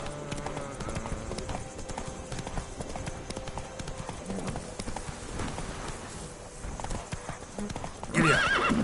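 Roach, Geralt's horse in The Witcher 3: Blood and Wine, gallops with a steady, rapid clip-clop of hooves filling the scene over ambient game noise, ending in a loud, close whinny at the very end.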